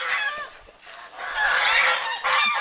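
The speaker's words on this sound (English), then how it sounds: "Oh, you can hear the geese." A flock of geese honking loudly and repeatedly, overlapping calls in continuous bursts close by.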